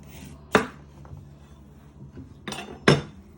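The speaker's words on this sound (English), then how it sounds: "You first want to chop off your ends off." A knife chopping the ends off carrots on a cutting board during soup prep: two sharp, close knocks about two seconds apart over a quiet kitchen background.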